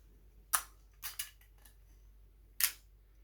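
An old Yashica film camera fires its shutter curtain in sharp, close mechanical clicks: one at first, then a quick double click, and a final click after a pause, all against near silence.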